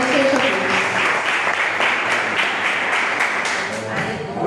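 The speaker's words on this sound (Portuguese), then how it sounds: "Você que recebe essa palavra, aplauda Ele" A church congregation applauds after a preached message. Loud, continuous clapping from many hands fills the space, with voices mixed in beneath it before it thins slightly at the close.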